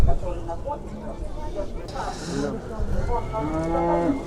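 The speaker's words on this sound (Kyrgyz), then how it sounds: "Соқулук мал базары уйлар жактабыз" Cattle low at the Sokuluk livestock market in Kyrgyzstan, with several drawn-out moos rising over a busy crowd of talking voices and general market bustle.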